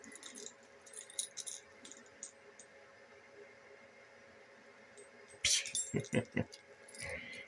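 A bunch of extra keys jangles near the end during a pinball tech night, a few sharp metallic rattles standing out over a steady room hum and a faint background voice.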